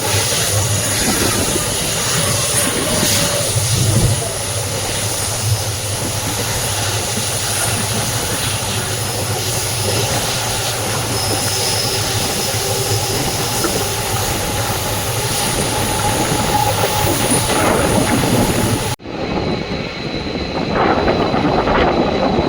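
A Subrahmanya Road to Mangalore Central passenger train runs along the line, a loud steady rumbling roar of engine and wheels filling the track, cutting briefly quieter near the end.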